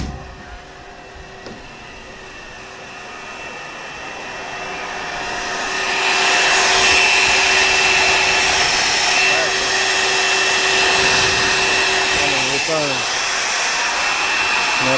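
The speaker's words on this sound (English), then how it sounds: "The vacuum's pulling it." A vacuum pulls an above-ground pool liner into place, a steady motor whine that swells louder partway through and then holds, with a person talking now and then.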